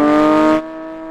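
A BMW M4 CSL and a Porsche 911 GT3 launch in a drag race with a loud, tonal engine roar that holds steady, then drops sharply in volume partway through, leaving a quieter lingering drone.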